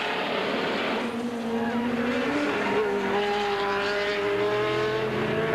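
Ford and Jaguar race cars roar past during a racing event, their engine notes rising and falling as they go by at a moderate distance. A steady background wash sits underneath, and there is no talking.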